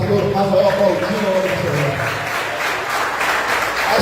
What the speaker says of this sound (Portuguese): Vai aplaudindo, dando glória a Deus, dando aleluia.